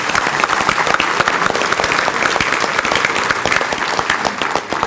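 Loud, dense applause from a breakfast crowd honoring Davis County Public School Board members, rapid overlapping claps held steady for five seconds, close and full.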